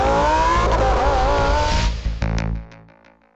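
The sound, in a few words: Lamborghini engine revving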